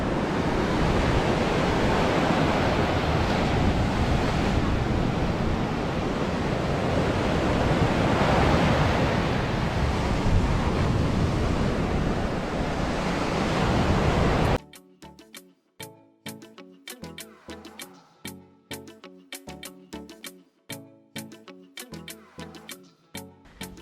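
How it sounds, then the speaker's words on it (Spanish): Heavy surf pounds Tayrona Park beach in a loud, continuous roar for about fifteen seconds before cutting to a different scene of sharp intermittent sounds. "acá el agua y el oleaje es bastante fuerte"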